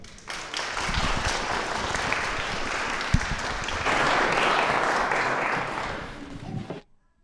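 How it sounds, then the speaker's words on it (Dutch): A live audience at a local show breaks into sustained applause, a dense wash of clapping that swells partway through and then cuts off abruptly at the end, heard from within the crowd. "Geef ze een geweldig applaus."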